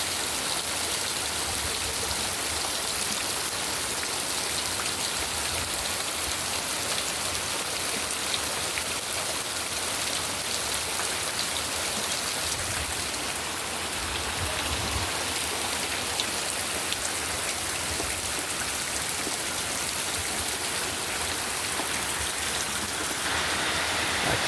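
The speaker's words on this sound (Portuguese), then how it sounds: "Muita chuva, muita chuva." Heavy midnight rain pours down steadily and loudly, a dense, continuous downpour drumming on surfaces with no voices present.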